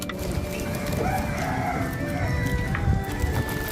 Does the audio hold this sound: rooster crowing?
yes